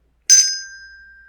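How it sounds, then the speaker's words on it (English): One crisp ring of a bicycle bell, bright and close, its clear tone fading slowly into silence. "And a bell."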